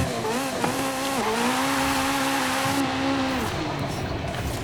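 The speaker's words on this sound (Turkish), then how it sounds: "Oyundaki ilk Ferrari'm Ferrari F40." A Ferrari F40 engine in Forza Horizon 5 revs loud and steady with a rasping, held tone that climbs slightly and then drops off, with no talk over it.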